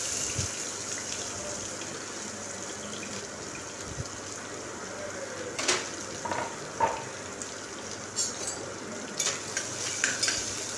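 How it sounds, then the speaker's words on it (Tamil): Chopped onions stirred and sautéed in hot oil with spices for a mutton curry, a steady soft sizzle with occasional scraping stir strokes and clinks, close and fairly quiet. "இப்போ நம்ம நறுக்கி வச்சுருக்க வெங்காயத்தை இதோடு சேர்த்து வதக்கிடலாம்."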